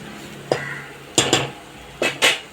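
A spoon scrapes and clinks against a pan while onion masala with coriander powder is stirred for a Tamil chicken urundai kulambu, four or five distinct close metallic knocks in irregular succession, no talking.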